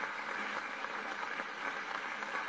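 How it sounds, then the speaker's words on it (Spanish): Broadband clapping from a small audience welcoming a guest doctor on a children's emergency program, steady and fairly soft for a couple of seconds with no talk over it. "¡Fuerte el aplauso!"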